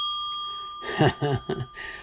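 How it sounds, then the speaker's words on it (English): A bell is rung once, giving a sustained bright ring that lasts about a second before it is covered by a few short knocking and handling sounds. "Here, I'll ring the bell for you."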